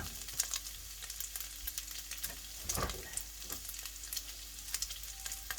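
Chopped garlic fries in a hot pan for a stir-fry of mixed vegetables with pork belly, giving a steady close sizzle with small crackles and pops and no voices.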